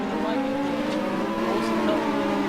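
SuperGT race cars at a race start in Zhuhai, a dense rising snarl of many engines revving together at a distance, with a commentator speaking over the noise.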